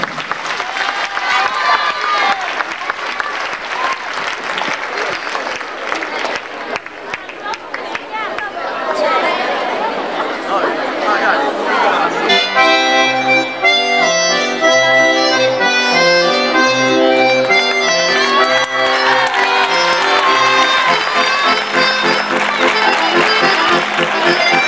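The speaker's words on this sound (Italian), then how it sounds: "Credo che l'applauso venga spontaneo." Audience at a San Sebastiano festival in Desulo applauding in a long burst mixed with crowd chatter and talk, then music with a steady beat rises and carries on under the clapping and voices.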